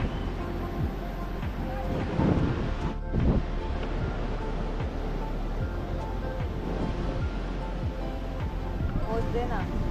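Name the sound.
big ocean waves at Baga beach, Goa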